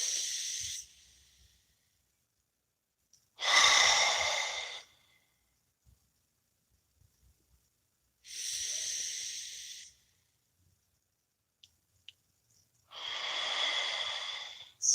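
Slow, deep breathing during meditation: long airy inhales and exhales in a steady rhythm, each breath lasting a second or two and separated by quiet pauses, close to the microphone with no talking.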